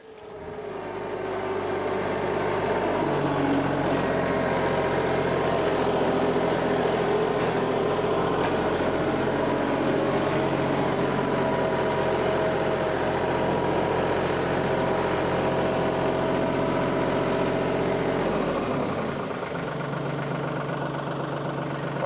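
A tractor engine runs steadily on level farm ground during stump-clearing work, a loud continuous idling rumble with mid-range knocking that holds for most of the span, then dips and shifts in pitch near the end.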